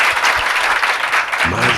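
Brief burst of loud studio-audience applause on a TV show, dense even clapping, with a voice starting to speak over it at the end.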